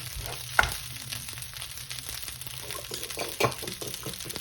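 A rice and vegetable mixture for egg fried rice is scraped across a hot pan and pushed to one side, giving a soft continuous sizzle with two sharp utensil scrapes or knocks against the pan.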